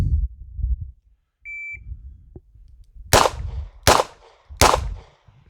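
A shot timer beeps once, then a 2-inch S&W 642 snubby revolver fires three loud, sharp shots at steady intervals of about 0.7 seconds during a handgun qualification drill.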